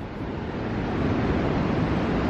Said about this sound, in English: some pretty big waves rolling in here